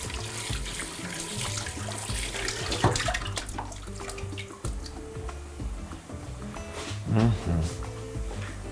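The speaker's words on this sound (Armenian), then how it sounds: "լոբին հարկավոր է սառը ջրի տակ ողողել, որպեսզի եփը կանգնի" Beans rinsed under a cold running kitchen tap, a steady broad stream of water splashing into a sink and colander, with occasional clinks and faint background voices.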